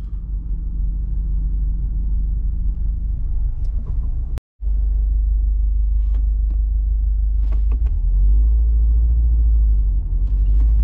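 A manual stick-shift car reverses slowly, giving a steady low engine rumble throughout with a brief dropout midway and a few faint clicks and knocks, heard from inside the car with no talking.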